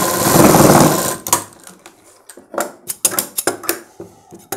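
A sewing machine runs briefly while stitching a Punjabi dress top, a loud close whir lasting about a second, followed by scattered sharp clicks and handling taps of fabric and machine parts.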